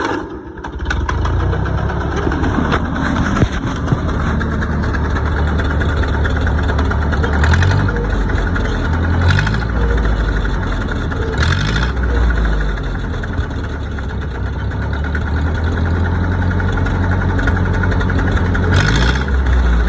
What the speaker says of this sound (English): let's fire this old tractor up and see if it did any good to it